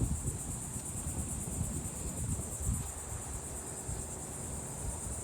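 Continuous high-pitched cricket chirping fills the background, steady and moderately close, over faint low rumble.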